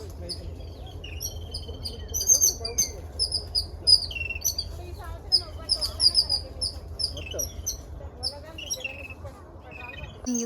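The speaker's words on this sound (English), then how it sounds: "You can hear the birds chirping." Birds chirp and tweet in repeated bright calls from a mango tree on a rural farm, scattered and lively over a steady low background hum, no talk.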